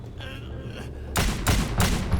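Gunfire in the Xbox 360 video game Wanted: Weapons of Fate, a run of several loud, broadband shots arriving in quick bursts over a low droning game background, with no talk.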